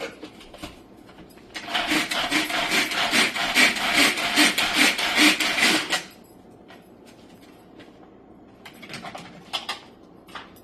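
Green chillies are chopped in a small kitchen chopper for tuna cutlets, giving a dense burst of rapid rhythmic rasping and whirring for several seconds, followed by quieter scattered taps.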